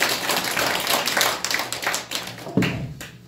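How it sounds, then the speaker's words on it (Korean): Audience clapping welcomes a chairman to the stage at the launch ceremony of an election-fairness federation: a dense, steady patter of many hands that gradually thins and fades, with one sharper thump near the end. "박수로 맞이해 주시면 감사하겠습니다"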